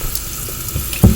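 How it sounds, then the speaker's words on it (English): Cold tap water runs briefly into a container being rinsed in a kitchen while cooking pork shoulder, a close steady splash ending in a louder gush. "what I do is I rinse it out with cold water first."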